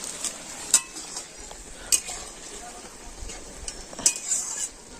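A utensil stirs dried fish curry with fried potatoes in a pan, with a few sharp clinks against the metal at irregular intervals over a soft simmering background.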